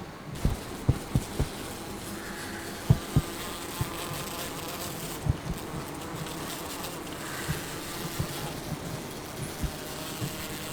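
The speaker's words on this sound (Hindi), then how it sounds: "मेरे घर में कम से कम 7-8 मधुमक्खी आ गई है।" Several honey bees that got into a house through an open hall window buzz steadily and close by, with scattered knocks and taps as they bump against lights, and no voices.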